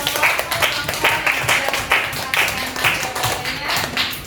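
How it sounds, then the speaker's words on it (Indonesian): An audience applauds the presenters at a teacher training session, giving a steady run of rhythmic, fairly loud clapping, close and continuous throughout. "Kita beri aplaus untuk"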